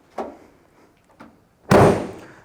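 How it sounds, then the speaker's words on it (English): Trunk lid of a 1967 Chevrolet Chevelle SS 396 big block shutting: two light taps from handling, then one solid, close slam with a short ringing decay. "Trunk lid shuts very well."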